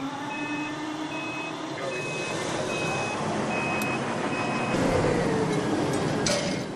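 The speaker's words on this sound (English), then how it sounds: "she's behind the wheel of a dump truck." A dump truck reverses at a coal mine site, its alarm sounding a steady series of regular high beeps over continuous rumbling engine noise, with some clanking toward the end.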